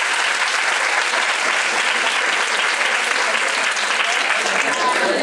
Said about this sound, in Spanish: Pues un aplauso para ella también.